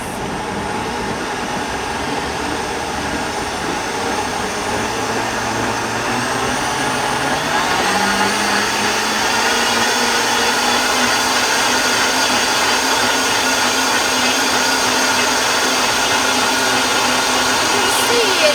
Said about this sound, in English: And we're just going to grind this into a no cheese sauce.